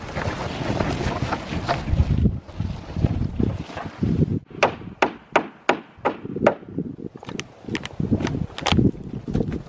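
Hammer tacking nails into a plywood floor on an off-grid cabin build, heard outdoors in wind: a run of sharp wooden knocks in an uneven rhythm, about a dozen strikes, over gusty background noise.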